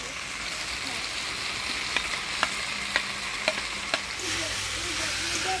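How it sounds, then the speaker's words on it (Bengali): Jackfruit being stirred with spices in a frying pan sizzles steadily while a utensil scrapes and taps the pan in a run of light knocks. "কাঁঠালটা মশলার সাথে ভালোভাবে নাড়াচাড়া করে নিলাম।"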